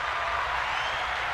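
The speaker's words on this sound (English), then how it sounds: "I need a clap for that one." A crowd applauds steadily, a continuous even patter of many hands clapping that holds at a moderate level throughout.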